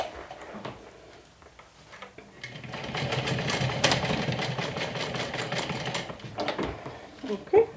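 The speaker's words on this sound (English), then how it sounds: "I top stitched the ends." Sewing machine top stitching the ends of a canvas crossbody tote bag, a steady mechanical whirring run that starts quietly and builds to a sustained close, busy stitching before a few sharp clicks at the end.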